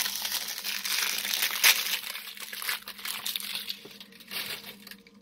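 Plastic packaging being opened up close, with continuous crinkling and rustling and a sharper tearing crackle partway through, fairly faint and with no talking.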